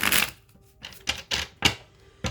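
A new deck of tarot cards gets shuffled in several short, crisp bursts of riffling and slapping, close by with pauses between them.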